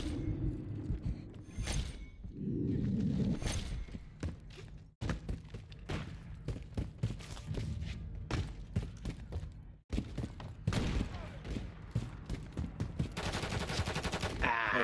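Rapid bursts of gunfire in a Call of Duty: Modern Warfare III multiplayer match, repeated volleys with brief gaps and mechanical clatter, loud and close throughout.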